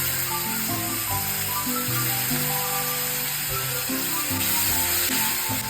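Potatoes fry in a pan with onion and tomato for a dry eggplant sabzi, giving a steady close sizzling hiss under loud background music.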